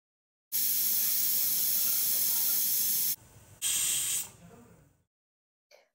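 Loud steady hiss of steam escaping a pressure cooker while keema kanji cooks, a long blast of about three seconds, a brief dip, then a second shorter burst that tapers off.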